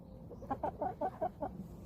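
A dominant rooster gives a quick run of about six short clucks in a row, close and fairly loud, outdoors beside a field of fatsia shoots, with no talking over it.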